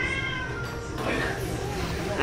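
A cat in a cat cafe meows in drawn-out, wavering cries over busy background chatter and room noise, close by.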